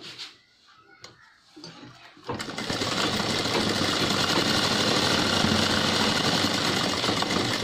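A sewing machine stitches a pocket on gents' formal trousers, starting after a few soft handling clicks and then running in a loud, steady, fast mechanical whir to the end.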